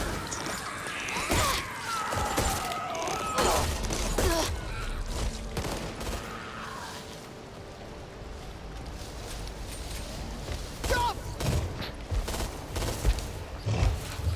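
Gunfire in the zombie shooter Back 4 Blood, with repeated shots and bursts over a continuous busy game mix, some loud cracks rising above the din, and a voice faintly present.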